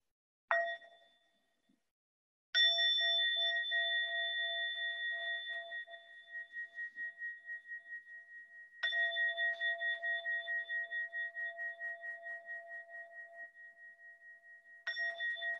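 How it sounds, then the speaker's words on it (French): A meditation bell is struck three times, each strike ringing out clear and close with a long, slowly fading shimmering tone in an otherwise silent space. "je vais sonner la cloche à 3 reprises pour inviter"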